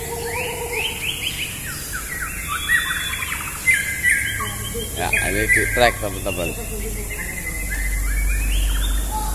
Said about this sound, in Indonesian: bisa nikmatin gaya tarung burung-burung jagoan